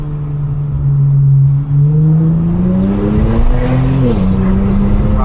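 A 2020 Infiniti Q50 Red Sport 400 engine drones loudly from inside the cabin while accelerating, its pitch climbing steadily before a quick drop at a gear change, then pulling again.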